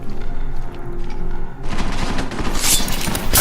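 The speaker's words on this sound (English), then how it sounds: "We just use the silenced pistol, which can be very deadly and very quiet." Gunfire in Deus Ex Mankind Divided, where a silenced pistol is used, starts with a quiet stretch, then comes a loud, dense run of shots and impacts for the last couple of seconds, without speech.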